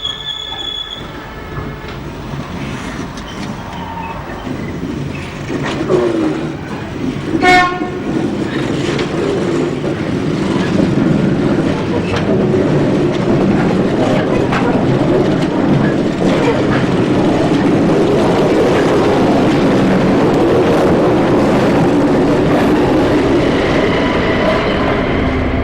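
Class 08 diesel shunter 08613 hauling wagons from reception sidings into a cement works, a steady loud rumble of rolling wagons with wheel squeal and a brief horn-like tone early on.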